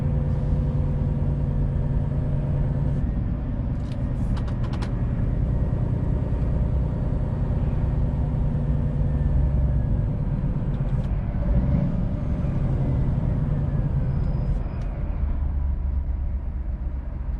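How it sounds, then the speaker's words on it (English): A new-generation Scania truck pulling a trailer drives along, its engine a steady low rumble heard from the cab, with road hum and a few light clicks and rattles throughout. "Man, this truck is quiet."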